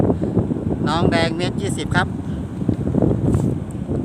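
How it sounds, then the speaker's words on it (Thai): Wind blowing outdoors at a kite-flying session near a sugarcane field, a loud continuous rumble and buffeting on the microphone, with someone talking over it. "วันนี้ลมดีมากฮะ"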